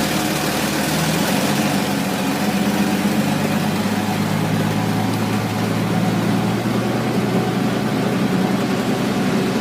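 A Toyota engine idling after a cold start with the manual choke pulled fully out, a steady low rumble and hum that holds even and loud throughout with no voices.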